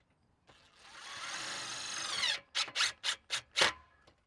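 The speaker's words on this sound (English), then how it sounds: "You're going to want to pre-drill this screw though." A power drill bores a pilot hole into the wooden top rail of a stair railing, with a steady whir of about two seconds followed by five short bursts, close and alone.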